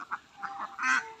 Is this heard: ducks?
yes